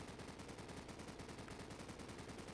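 Machine gun fire in the video game Call of Duty 4: Modern Warfare, a rapid, steady stream of evenly spaced shots, fairly faint and continuous throughout.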